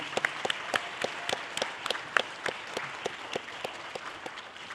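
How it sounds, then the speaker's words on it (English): Scattered applause from a modest pageant audience for the contestants, with individual sharp hand claps standing out distinctly in an irregular rhythm over a thinner background of clapping. "Let's give them another round of applause, all the ladies."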